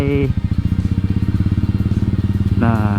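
A Yamaha SR400 motorcycle ridden to work along an empty road gives a steady, close, loud engine thump with an even pulsing rhythm, while someone talks briefly at the start and end.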